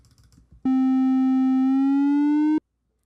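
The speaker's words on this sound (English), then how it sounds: "there's a linear sweep of all the pitches in between" A Pico-8 chiptune slide effect: one steady, buzzy synth tone held for about two seconds while its pitch glides slowly and evenly upward from one note to the next, then cuts off abruptly.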